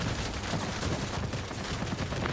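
Aircraft machine guns fire nonstop in the World of Warplanes flight game, a dense, steady roaring rattle of rapid shots that keeps up loudly for the whole stretch with no pauses.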